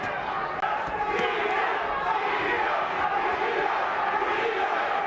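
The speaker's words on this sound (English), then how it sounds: "Crowd chanting for Diaz." A boxing crowd chants for Diaz during a Margarito versus Diaz fight, a continuous roar of many voices filling the arena, with a commentator talking over it.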